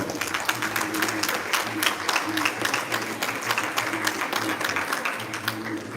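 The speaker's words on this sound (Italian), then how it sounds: "L'applauso del pubblico." Spectators applaud at a youth boxing event as a fighter is introduced, steady clapping from a small crowd with a low voice or hum murmuring underneath.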